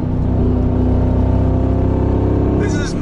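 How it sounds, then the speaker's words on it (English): A Mansory G63 Star Trooper pickup engine revs in a loud, steady roar with a deep rumbling drone that holds throughout, ending in a brief airy turbo blow-off whoosh. "sounds so crazy, and the turbo blow off as well. Listen to that."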